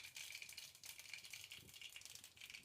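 Mustard seeds land in hot oil and spit with a quiet, dense crackling rattle that keeps going without a break, heard up close but faint.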